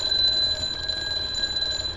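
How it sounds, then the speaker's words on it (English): A wall clock mod alarm in Ark Survival Evolved rings with a steady, high electronic tone that continues unbroken throughout, with no voices. "Baby's coming! My alarm went off."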